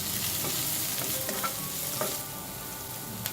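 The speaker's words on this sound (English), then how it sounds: "Saute the onions in 2 tablespoons of oil in a frying pan on medium heat." Onions sauteing in two tablespoons of oil in a frying pan over medium heat, giving a steady, close sizzle with brief stirring scrapes over it and no voices.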